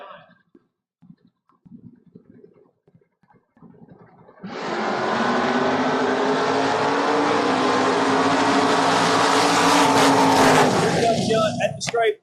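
A drag racing car, a Mustang in the far lane, launches loudly after a quiet start and roars down the strip at a steady high pitch, fading near the end, with an announcer talking over it.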